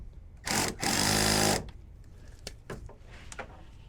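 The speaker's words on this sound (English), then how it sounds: "Now this drill is set so that it won't over tighten" A power drill runs two quick bursts, a short one then a longer whir about a second long, tightening bolts on a 6.7 Powerstroke diesel fuel filter housing, followed by faint clicks and handling noises.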